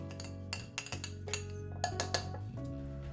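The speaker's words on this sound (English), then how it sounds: "I'm gonna give it just the tiniest stir, just to get a little bit of that sugar dissolving" A spoon clinks repeatedly against a glass while stirring sugar in a mint julep cocktail before ice goes in, with close, bright taps in an uneven rhythm.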